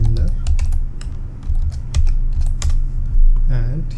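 Steady typing on a computer keyboard while writing Go code for a GIN REST API, with crisp, close keystrokes in an irregular rhythm under a low background hum.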